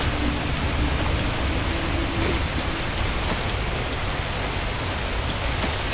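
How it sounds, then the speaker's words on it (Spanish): Steady rain falls in the horror video game Lurk, a dense, continuous hiss with scattered droplet taps, even in loudness throughout, with no voices. "Aquí empezó a llover."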